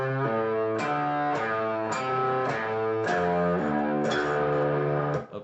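A distorted electric guitar plays a slow riff, single notes and short chords each ringing out evenly in a steady rhythm, no voices.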